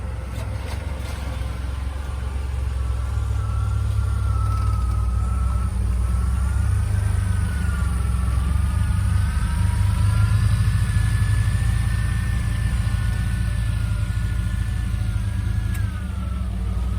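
A 1981 DeLorean DMC12 engine idles steadily, a low continuous rumble that holds at an even level as the car pulls around a corner, with no one speaking.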